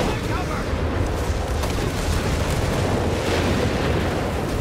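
Whizbang rocket barrage in Company of Heroes 3 battle, a loud continuous rumble of overlapping booms and blasts rolling on without a break.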